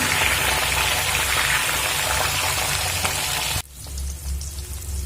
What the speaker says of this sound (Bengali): ডিমগুলো কিন্তু একটু হালকা ভাজবো খুব বেশি ভাজবো না